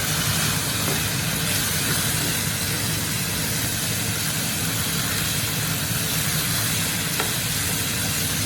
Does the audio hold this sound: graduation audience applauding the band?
no